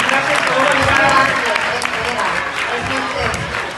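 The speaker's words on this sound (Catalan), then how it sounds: "Un aplaudiment per a tots, moltíssimes gràcies per arribar." An audience at a Catalan award ceremony breaks into sustained applause, a dense, steady wash of many hands clapping at moderate volume with some crowd voices mixed in.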